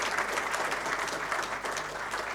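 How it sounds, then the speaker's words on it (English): Audience applause at a book launch event in Delhi, dense and continuous clapping from a crowd filling the room, steady throughout with no speech. "Calls for a huge round of applause."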